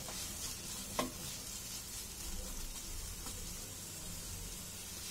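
Salt stirred into vegetables in a pan for mixed fried rice, a soft continuous sizzle with a few quiet scrapes and one light knock near the start.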